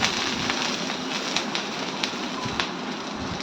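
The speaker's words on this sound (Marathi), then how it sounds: "थोडं तेल टाकलं मी त्यावरती मिरच्यावरती आणि ते भाजून घेतले" Green chillies roast in oil in a pan for a Maharashtrian thecha, giving a steady close sizzle scattered with small crackling pops.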